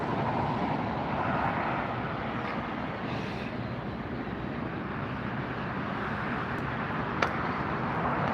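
An Alaska Horizon Airlines airplane in special livery at Los Angeles International Airport produces a steady, broad engine roar that holds even and unbroken throughout, with no voices over it.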